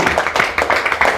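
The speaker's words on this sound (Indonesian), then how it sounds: "Oh, berikan sorak-sorai segala." A church congregation clapping in a rapid, even rhythm, a short dense burst of hand claps at close range with no clear speech.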